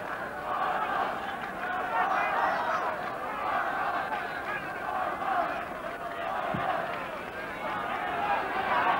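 Crowd of about 25,000 at Clones for the 1984 Ulster football final between Armagh and Tyrone, a steady, far-off roar of cheering and chatter lasting throughout, with a commentator's voice over it.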